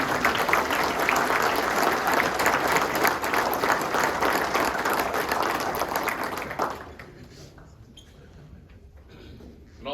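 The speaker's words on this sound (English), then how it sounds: "Will you please join me in a round of applause for Coach Zick on an amazing 36-year career." An audience at a high school basketball state finals lunch gives a coach a loud, sustained round of applause for his career, dense clapping that carries on for several seconds before abruptly dying away.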